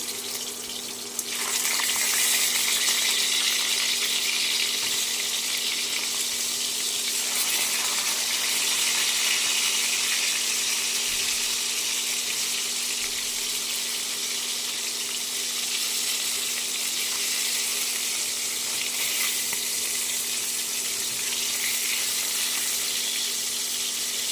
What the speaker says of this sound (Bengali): মাছগুলো উল্টে ভেজে নিতে হবে